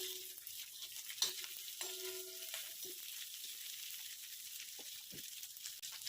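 Garlic and onion fry in a pan with a quiet, steady sizzle and hiss, with a few faint stirring scrapes and knocks, fairly distant and low in level.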